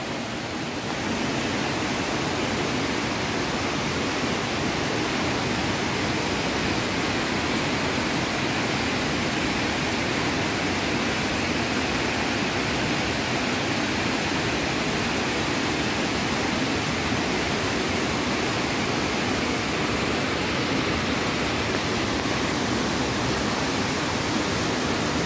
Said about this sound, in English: And you can hear the roaring of the river.